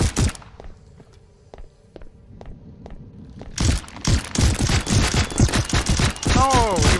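Shooting in the VR video game Dungeon Knight: faint, evenly spaced ticks give way to a loud, dense barrage of rapid cracks and impacts layered with busy clatter.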